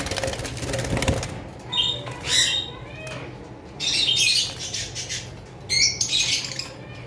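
Lovebirds, including violet double-factor masked birds, squawk in several short bursts of shrill, chattering calls separated by brief pauses, close by, with faint background hum.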